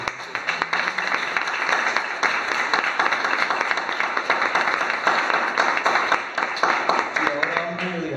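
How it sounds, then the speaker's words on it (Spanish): Warm applause from an audience at a book talk, dense clapping continuing steadily through the clip, with a voice speaking near the end. "yo sí voy a pedir que le demos un fuerte aplauso"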